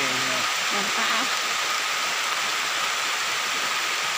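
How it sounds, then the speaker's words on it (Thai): Steady rain falls in a forest during mushroom picking, a dense hiss of drops throughout, with a brief voice murmuring near the start. "ฝนตกฝนตก"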